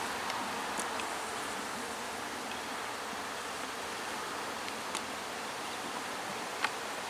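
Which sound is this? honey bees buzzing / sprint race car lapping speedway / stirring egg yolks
honey bees buzzing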